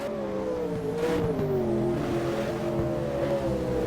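Holden Commodore race car in a social-league circuit race at Hidden Valley, its engine holding a loud, steady high-revving drone close by, pitch rising and falling slightly as it runs behind another car.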